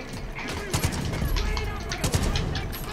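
Rapid bursts of gunfire in the Far Cry 5 shooter, with sharp repeated shots clustered near the start and again later, set against a dense, busy game soundscape.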